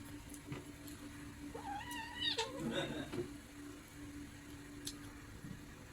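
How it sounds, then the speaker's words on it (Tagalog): Two cats fight indoors, with a rising, wavering caterwaul and yowls in the middle of the stretch, fairly close but moderate in level over a quiet room hum. "Nag-away yung pusa ko."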